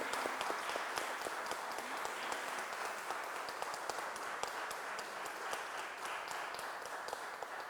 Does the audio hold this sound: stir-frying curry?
no